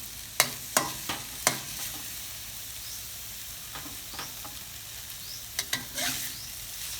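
Rice noodles are stirred and tossed in a frying pan, with sharp scraping clacks of a spatula against metal over a soft, continuous sizzle, several quick hits early, then scattered scoops later.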